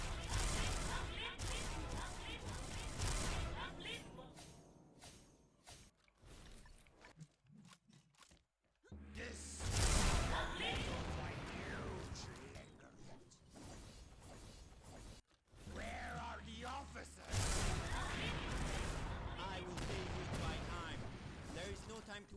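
Video game gunfire with a bazooka weapon skin: dense, loud bursts of shots and blasts with whooshes and clanking mechanisms, mostly continuous with brief drops, while someone talks over the action.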